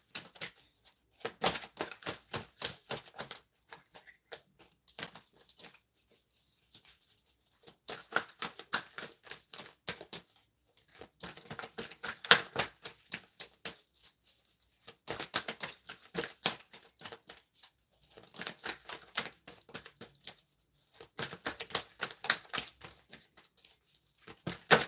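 A deck of tarot cards being shuffled by hand during a reading, coming in bursts of quick crisp riffling flutters separated by short pauses, close and fairly quiet, with no talking.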